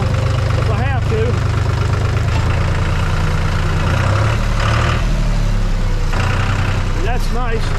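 A tractor engine idles steadily on a woodland trail, a loud close low rumble that runs throughout while someone talks over it.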